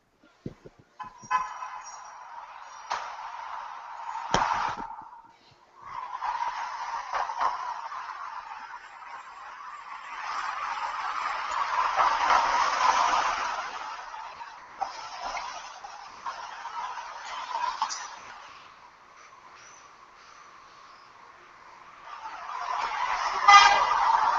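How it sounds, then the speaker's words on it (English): Recorded street traffic with a steady stream of cars passing, swelling louder and fading softer in waves, with several car horns sounding along the way; no talk, just continuous road noise. "it's all kinds of cars going by, getting louder, getting softer, some car horns"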